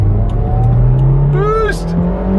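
A JDM car accelerates hard under turbo boost, its loud engine note rising steadily with a whistling whir over the top, while a person talks excitedly.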